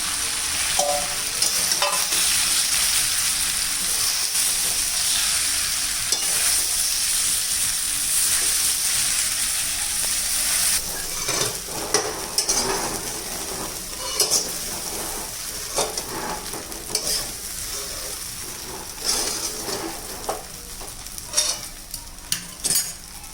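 Chopped bottle gourd sizzles steadily in hot tempering oil in a pan, with a spoon stirring and occasionally clinking against the metal.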